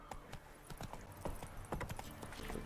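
Horse hooves gallop in The Witcher 3 video game, a steady clip-clop rhythm of hoofbeats heard fairly faint throughout.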